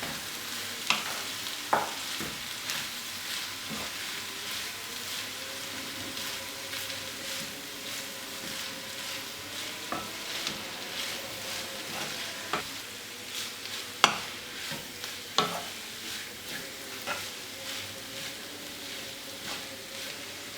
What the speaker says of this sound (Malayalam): ഇനി നമുക്കിതിലേക്ക് വേവിച്ച് പൊടിച്ച് വെച്ചിരിക്കുന്ന മീൻ ചേർക്കാം. ഇതെല്ലാം കൂടെ നന്നായിട്ടൊന്ന് മിക്സ് ചെയ്ത് കൊടുക്കാം.